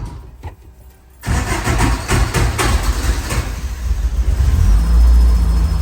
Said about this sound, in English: Fire it up